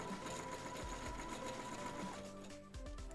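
A sewing machine runs steadily, stitching a fabric seam with a 5/8 seam allowance, its fast mechanical whir close and clear, with a brief pause and restart near the end and no talking.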